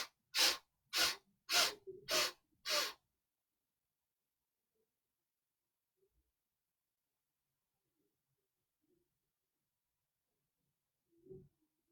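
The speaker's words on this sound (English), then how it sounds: "taking a sniff, and then going down and exhaling 10" Breathing exercise with sniffs and segmented exhales: six short, forceful breath bursts in a steady rhythm over the first three seconds, then near silence with only a faint soft sound near the end.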